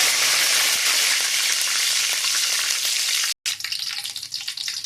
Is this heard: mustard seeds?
yes